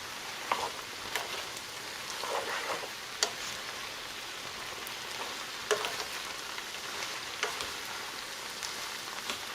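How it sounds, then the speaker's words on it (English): Butter sizzling in a pan with butter chicken fettuccine pasta, a soft steady crackle with occasional faint clicks and pops, quiet and without talk. "I'm going to go ahead and add one more tablespoon of butter to my pasta."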